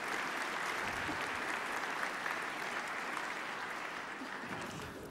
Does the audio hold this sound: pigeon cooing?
no